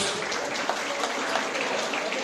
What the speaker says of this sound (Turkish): Kurucu başkanına da özel bir alkış alalım mı?